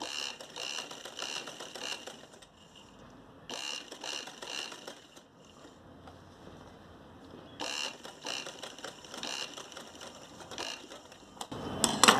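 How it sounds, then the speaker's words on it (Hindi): A sewing machine stitches elastic into a circle for a salwar waistband, running in several bursts of rapid mechanical clatter separated by short pauses, close and steady, with no talk. "यहाँ पे 4-5 सिलाई लगा के इसको पक्का कर लेंगे"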